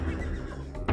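A horse whinnies in Age of Empires 2 HD gameplay, a short, loud neigh with a sharp burst at the end, set against steady game ambience.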